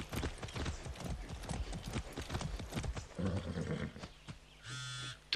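Horse hooves clip-clop in Far Cry 6, a quick, busy patter of close hoofbeats over game ambience, with a brief engine-like drone near the end.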